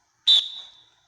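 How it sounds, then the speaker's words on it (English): A referee's whistle blown through a Coacher amplifying device, heard as a single short, sharp blast that rings out and fades over about half a second, loud and close in an otherwise quiet space. "You can hear it through the whistle."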